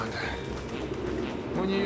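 Pigeons cooing in the video game Detroit: Become Human, a soft, low, continuous murmur of coos that sits faintly in the background ambience.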